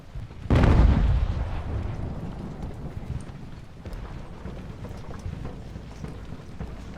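Cannon artillery fires in the naval and land battle game Ultimate Admiral: Age of Sail, a deep booming blast followed by a rumbling tail and a continuous din of distant battle noise.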